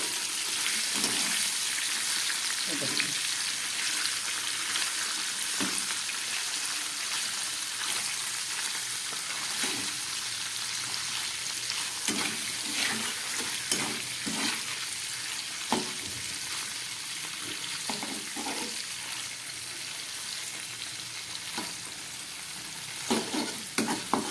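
Oil sizzles steadily in a pan as paneer fries, with scattered pops and occasional stirring scrapes throughout a long stretch of frying.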